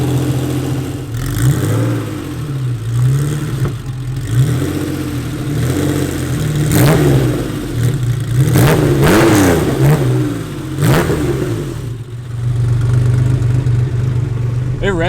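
A 6-speed swapped Porsche 964 engine revs sharply several times over a steady idle, climbing quickly and dropping back between blips. It sounds loud and close, heard from inside the car during a first drive.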